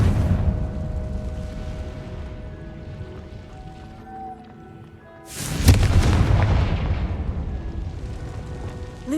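A Confringo fire spell explodes in the video game Hogwarts Legacy. After a stretch of quieter game ambience, a sudden loud blast hits, then a sustained rumbling roar that lingers to the end.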